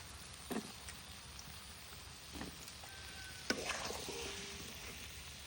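Cut sweet pumpkin pieces fry in spiced oil, a faint soft sizzle with a few scattered knocks and scrapes as they are stirred in the pan, quiet and without talk.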